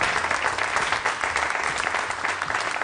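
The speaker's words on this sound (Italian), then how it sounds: "Un applauso a Cuochi e Fiamme" A studio audience applauds on the Italian cooking TV show Cuochi e Fiamme: dense, steady clapping, loud and close, holding evenly throughout without a break.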